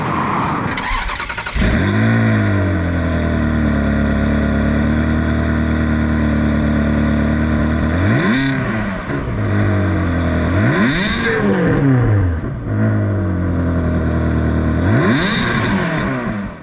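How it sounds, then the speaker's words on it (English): A car engine cold starts with a cranking catch, then settles into a loud, steady high idle before three sharp exhaust revs rise and fall near the end, heard close up with no talking. "let's do a cold start"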